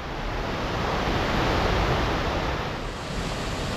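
A steady, full rush of water falling over a stream weir in Deokdong Valley, Jecheon, roars continuously without a break, dense and loud like a small waterfall close by.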